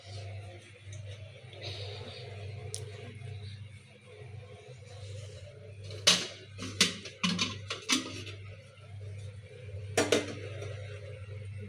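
Kitchen pots are being scrubbed and polished. Soft rubbing gives way to clusters of sharp metallic clanks and knocks over a steady low background hum.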